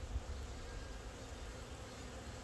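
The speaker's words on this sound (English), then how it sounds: "runaway bees." A runaway honey bee swarm buzzes as a faint, continuous drone of many insects, steady and unbroken, with no talking.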